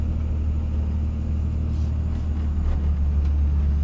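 A Dodge Ram pickup with a 5.9 Cummins diesel climbs a snowy West Virginia mountain pass off-road, its engine a steady, loud, low rumble throughout with faint crunching on top.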